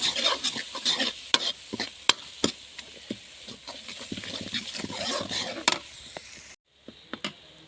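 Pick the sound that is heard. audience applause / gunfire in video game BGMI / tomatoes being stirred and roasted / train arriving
tomatoes being stirred and roasted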